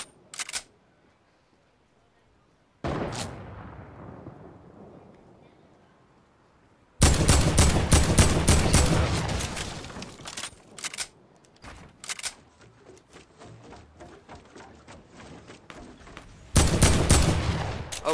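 Gunfire in a first-person shooter game, including sniper shots: sharp, loud shot reports with rapid bursts and isolated cracks, separated by near-silent gaps and one shot that rings out and slowly decays.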